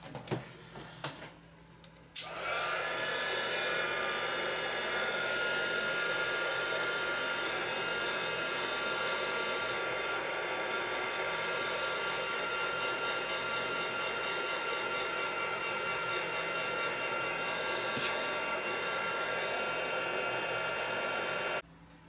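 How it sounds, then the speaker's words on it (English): A hair dryer drying wet artwork switches on after a couple of seconds of faint handling noise and then blows at a steady, loud, even roar until it cuts off right at the end. "That's quite wet, so I'm going to have to dry again."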